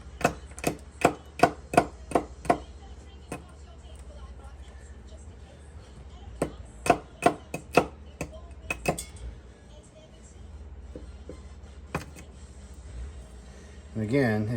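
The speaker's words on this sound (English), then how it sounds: "Kind of just chop this up like an onion." Sharp, close knife strikes chopping fatwood on a hard surface, coming in quick rhythmic bursts with pauses between them and a few scattered single chops later.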